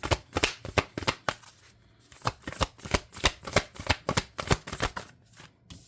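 Oracle cards being shuffled by hand during a tarot-style reading, a steady run of crisp riffling slaps and flicks in quick bursts with a brief pause midway, close and fairly quiet with no talking.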